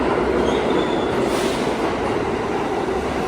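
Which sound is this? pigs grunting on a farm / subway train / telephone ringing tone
subway train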